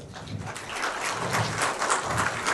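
Audience applause for the speakers at a TiE Chandigarh business talk, a continuous wash of clapping from many hands, fairly close and even, with no talk over it.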